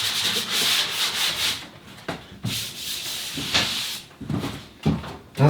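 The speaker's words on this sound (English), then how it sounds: "The last step before we put our texture is to lightly sand the spots that we touched up." Sandpaper rubbed lightly over patched, touched-up spots on a ceiling before texturing, a close, steady scratchy hiss in repeated strokes with short pauses between passes.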